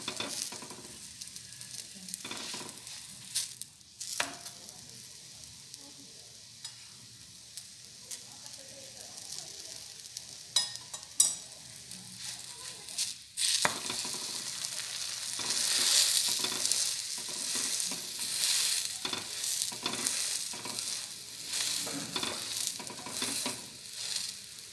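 A stuffed methi paratha fries in oil on a pan with a steady, close crackling sizzle that grows louder and denser in the second half.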